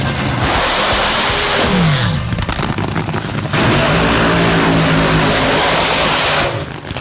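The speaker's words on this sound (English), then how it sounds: "I've got the Atlanta Speed Shop, Lot 6 Top Fuel Dragster" A Top Fuel dragster engine roars at full volume at a drag strip, its loud, rough blast rising and falling in pitch through surges with a brief dip in the middle.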